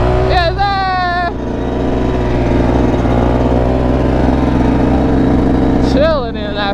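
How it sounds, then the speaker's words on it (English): Kids ride mini bikes around a lot, small engines droning steadily up close with a few revving whines rising and falling at the start and end, and voices call out over them. "all the kids out here chilling on their mini bikes"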